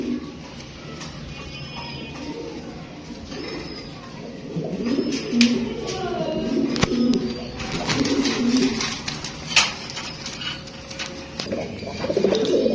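Pigeons cooing on a pigeon farm, soft throaty coos repeating in irregular bursts over a quiet background, with scattered chirps and clicks.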